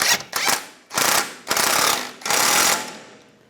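A hand ratchet clicks in several quick bursts while tightening a ball joint nut on a 2004-2010 BMW X3, loud and close with brief pauses between strokes.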